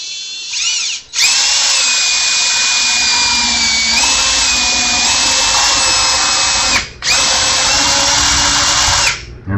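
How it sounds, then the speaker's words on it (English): A power drill whines steadily as it bores into an oak dowel set in a G&L L2000 guitar neck, one loud sustained run with two brief dips in speed and no speech. "I have just enough room for the drill to fit under the neck and get a really good straight angle at our oak dowel"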